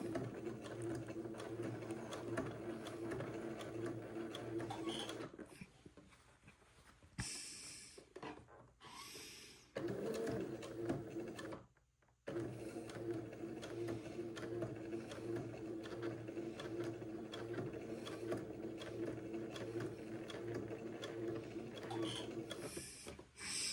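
A sewing machine stitches close along a fold line on an Eton suit, whirring steadily with a brief break and a couple of stops partway through before running on at an even pace.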